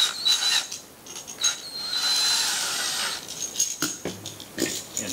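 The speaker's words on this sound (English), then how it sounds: "we're going to go ahead and run all these screws out" Screws being backed out of electrical receptacles on a stage stringer, giving rapid ratcheting, squeaky metallic turning with short pauses between screws, close and fairly loud, no voices.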